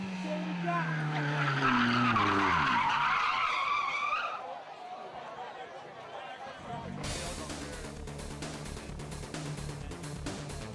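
Rally car spinning out on a gravel stage course, engine revving loud and close with a sliding skid, then a quieter stretch before a steady drone of a car carrying on at a distance.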